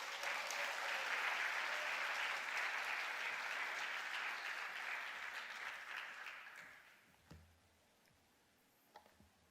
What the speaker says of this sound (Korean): 우리 처음이니까 박수해줘요.